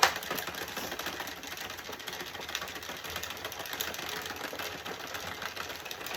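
A hand-cranked knitting machine works Woolcraft New Fashion DK yarn, giving a steady, close mechanical clatter and whirr that runs without a break, with no voices.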